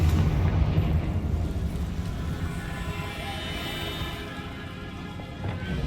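Confringo blasting spells fired in Hogwarts Legacy, loud booming explosions at the start that fade into a rumbling, crackling decay, with no talking.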